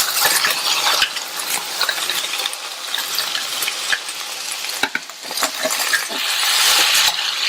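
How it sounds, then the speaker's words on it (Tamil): Cut okra with onion sautés in oil in a pan over a medium flame, giving a steady close sizzle. A spoon stirs and scrapes through it with scattered clinks against the metal, and no one talks. "இந்த காய் மீடியம் ஃப்ளேம்லயே எண்ணெயிலேயே நல்லா வதங்கட்டும்."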